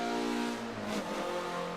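A Mazda racing car engine in a driving video game drones steadily with strong harmonic tones, rising and shifting in pitch mid-clip as it revs, loud and continuous with no talk.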